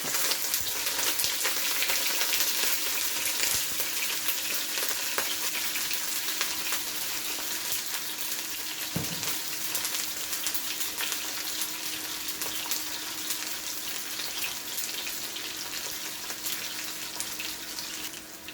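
Half a medium diced onion fries in about two tablespoons of hot cooking oil, making a steady, loud, close sizzle that hisses without pause for the whole stretch. No one speaks.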